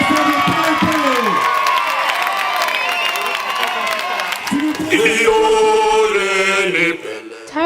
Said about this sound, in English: Sous vos applaudissements pour le Swaziland,